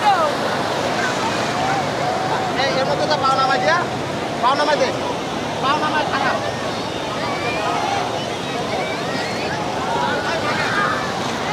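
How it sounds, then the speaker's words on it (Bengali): Rough sea surf at Cox's Bazar beach under a cloudy sky roars steadily with wind buffeting the microphone, while voices and shouts of people nearby on the beach come and go over the waves. "সাগরটা একটু বেশি উত্তাল, কারণ আকাশে মেঘ, কিছুক্ষণ পর বৃষ্টি নামবে।"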